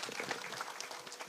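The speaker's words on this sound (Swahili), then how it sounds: "pigeni hao wote makofi." Faint, distant applause from the crowd at an outdoor town hall security meeting in Kiambu County, a brief steady patter of many hands.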